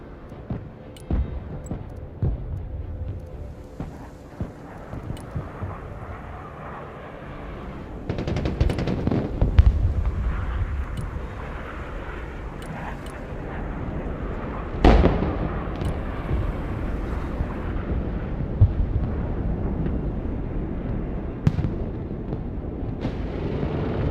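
Missile strikes exploding in the video game Broken Arrow, a rapid run of sharp blasts and rumbling impacts layered over sustained battle noise, with heavier bursts near the middle and scattered cracks throughout.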